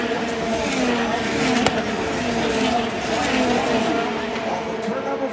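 IndyCar race cars screaming around the Indianapolis 500 track at the Speedway, loud high-pitched engine whines rising and falling as cars pass, under crowd noise and a commentator talking.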